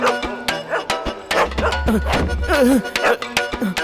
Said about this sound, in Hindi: अंदर कुत्ते की आवाज क्यों आ रही है?